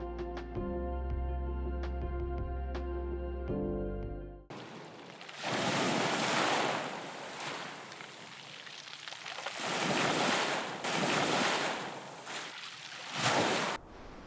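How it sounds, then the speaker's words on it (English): Surf breaking on a beach shore at Mykonos, a steady broad wash of crashing waves that swells and fades in repeated surges, loud and close, after a brief opening of music. "I love the sound of the waves crashing on the shore and the feeling of the wind on my skin."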